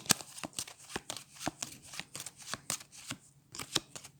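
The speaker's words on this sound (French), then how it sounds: "on prend son deck d'armes, on les remélange et on repart pour un tour" A deck of weapon cards from the Tiny Epic Mechs board game being shuffled close by, giving a steady run of sharp riffling snaps roughly every half second, with no voices over it.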